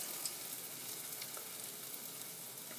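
Beer-battered fish fillets sizzle in hot olive oil, a steady, fairly quiet broadband frying hiss with faint crackles and no talking.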